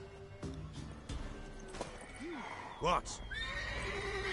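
A horse neighs in the video game The Witcher 3, a few short whinnies and snorts with hoof clops over a quiet ambient bed, alongside brief character dialogue.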